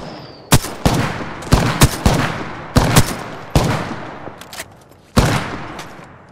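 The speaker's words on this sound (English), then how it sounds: "I'm getting shot at." Gunfire in the video game Apex Legends: a series of sharp, loud shots arriving singly and in quick pairs, each with a short decaying tail, spread irregularly over a few seconds.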